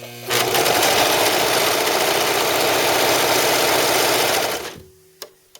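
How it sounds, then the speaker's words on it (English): A Brother 1034D serger running steadily to sew a thread chain, a loud continuous mechanical whir for about four and a half seconds, then stopping, followed by a couple of faint clicks. "So it's time to sew. Let's see if we can create a thread chain."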